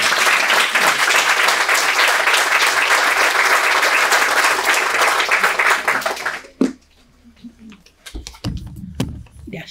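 An audience at a mural inauguration at an Arab studies center gives a loud, dense round of applause that cuts off abruptly, followed by faint shuffling and a few thumps in a quiet room.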